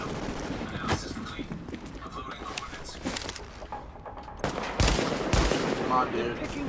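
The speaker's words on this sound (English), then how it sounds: "Taking small arms fire!" Small arms gunfire in the video game The Division, rapid automatic bursts and single shots over a busy background, growing louder and heavier toward the end.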